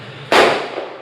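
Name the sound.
firecrackers bursting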